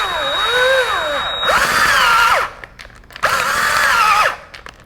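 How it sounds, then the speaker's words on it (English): A power drill bores a hole during a Ford Mustang S550 install, its motor whining in repeated rising and falling bursts with short pauses between, close and loud. "So now we drill right here"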